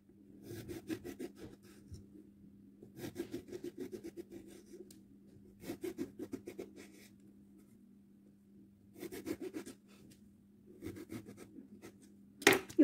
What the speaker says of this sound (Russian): Таким образом режем все наши баклажаны.